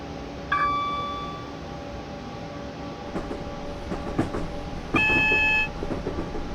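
A Southern Class 377 electric train in Train Simulator 2021 slows toward Tulse Hill station. Steady rolling rumble carries faint clicks and thin whining motor tones, with brief louder bursts near the start and around the fifth second.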